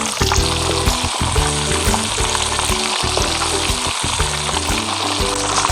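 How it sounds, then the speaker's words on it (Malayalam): Beer-marinated chicken deep-frying in hot sunflower oil, a loud, steady crackling sizzle with a dense bubbling roar that runs continuously throughout, with no voices. "നമ്മൾ എണ്ണ നല്ലതായി ചൂടായിട്ട് നിന്ന് കഴിഞ്ഞാൽ ഏകദേശം 15 മിനിറ്റിൽ ചിക്കൻ നല്ല രീതിയിൽ ഫ്രൈ ആയി കിട്ടും."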